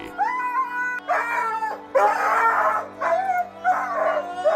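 A dog howls in several drawn-out, wavering bursts with short pauses between them, loud and close, almost like it is trying to talk.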